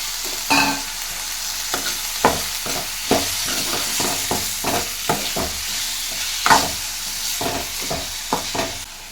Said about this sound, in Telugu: ఉప్పుని యాడ్ చేసి నెక్స్ట్ టమోటాలు కూడా యాడ్ చేసేస్తున్నాను